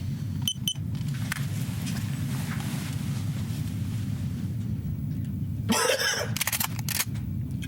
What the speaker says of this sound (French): J'ai juste toussé.